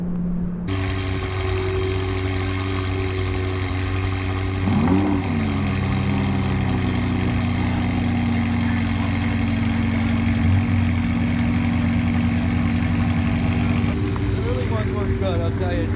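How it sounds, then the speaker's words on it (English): Engines, including a Lamborghini's, idle and rumble steadily nearby, with a car revving and pulling away briefly; a low mechanical drone fills the whole stretch. "let's see some of these cars as they rip on out of here"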